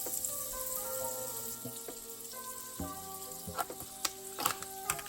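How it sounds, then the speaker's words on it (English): Butter sizzling and frying in a pan as the base for a bechamel sauce, a steady close crackle with scattered clicks and light utensil taps, no voices. "So here you can see I'm just adding in more butter."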